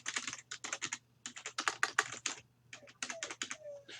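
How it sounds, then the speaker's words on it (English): Quick bursts of keystrokes on a computer keyboard as a domain name is entered, close and crisp, with short pauses between clusters of taps. "I'm going to type my domain."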